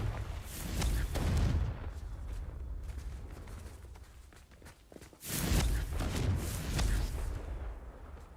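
Confringo spell explosions in a Harry Potter video game, two heavy rumbling booming blasts with a sustained roar between them, loud and full.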